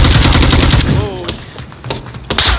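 Gunfire in the VR shooter Onward, loud rapid bursts of shots up close followed by a quieter pause and a few more sharp reports.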